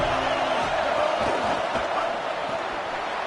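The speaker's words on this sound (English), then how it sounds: "Here comes this home crowd as the defense tries to get off the field on 3rd down" Home crowd roaring at an Alabama college football game on a third-down defensive stand, a loud, sustained stadium-wide roar with a few shouts poking through, steady from start to finish.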